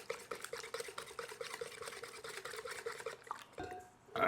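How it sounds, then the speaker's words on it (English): Sourdough starter is whisked into a mixture in a bowl, making a quick, rhythmic wet swishing and tapping that stays close and fairly quiet before stopping with a short clatter. "we're just gonna give it a nice little whisk"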